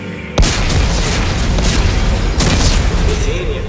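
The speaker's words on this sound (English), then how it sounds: "Computer, arm explosives." Explosives detonate in Dead Space 3 with one loud, sudden boom, followed by a sustained roaring rumble and a second burst partway through, close and dense, with no voices over it.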